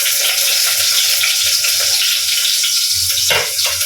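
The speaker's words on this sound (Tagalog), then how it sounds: "Lagyan natin ng sibuyas. Lutuin ang sibuyas na kabisnes." Onion frying in a pan, a steady broadband hiss of sizzling oil running throughout with a few brief stirring clatters near the end, loud and close with no voices.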